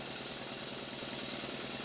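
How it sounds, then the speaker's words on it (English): A small workshop-built steam engine runs quietly and steadily, giving a faint, even low mechanical rumble with no talk. "I cannot believe how economical this engine is on steam"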